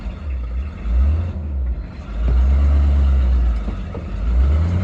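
A vehicle engine rumbles low and steady while driving in a high gear, with the drone swelling and easing a few times as the load shifts.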